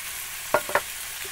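Beans are tossed into sizzling mince in a frying pan in a van kitchen. Two quick splashy thuds land close together over a low, steady sizzle.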